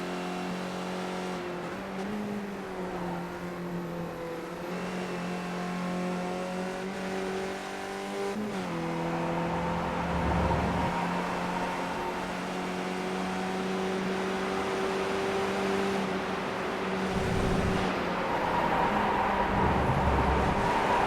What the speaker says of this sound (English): listening to the sound of these engines